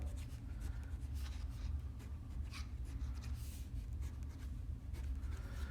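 Close, continuous scratching of pencil on paper while drawing a technical sheet, with repeated short strokes and faint rubbing over a low background hum.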